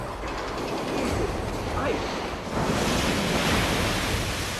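Storm-surge waves up to 8 metres high from Hurricane Katrina crash onto the Gulf Coast in a continuous, loud, roaring wash of surf and wind that swells slightly partway through.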